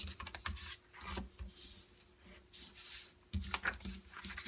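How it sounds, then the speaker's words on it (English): Soft rubbing and scraping strokes as the glued edges of a paper note set are burnished, quiet and close, with a few sharper taps near the end. "Burnish those edges."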